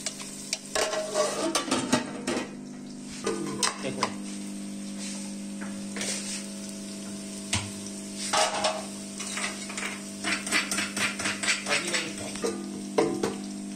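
Onions cook in a pan with frequent clattering stirs and scrapes over a continuous sizzle, and a voice speaks intermittently.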